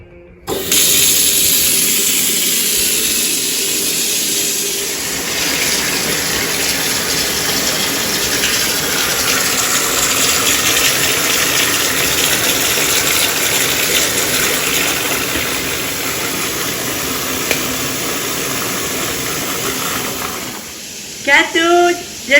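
Running water pours into a bathtub in a steady loud gush that holds for most of the stretch, then sputters and stops near the end.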